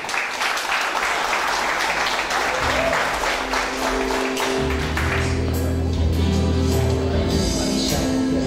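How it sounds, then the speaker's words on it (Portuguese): An audience at a formal ceremony at a cultural center in Morumbi, São Paulo, applauds an honored professor, with dense clapping that thins out in the second half as low hum and voices come through. "Vamos aplaudir, doutor, professor Paulo Oliver."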